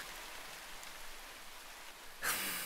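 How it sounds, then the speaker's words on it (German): Rain easing off at night in a zombie audio drama: a faint, steady hiss of falling drops with a brief louder swell near the end, without speech. "Der Regen lässt nach."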